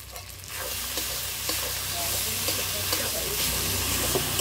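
Masala spices frying in a pan while being stirred for a country-chicken and jackfruit curry, a steady close sizzle with scraping spoon strokes throughout, no talking.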